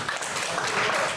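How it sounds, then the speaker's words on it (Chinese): A lecture audience in a hall claps together, producing a dense, even wash of applause at moderate loudness throughout the short stretch. "再一次用掌声来谢谢"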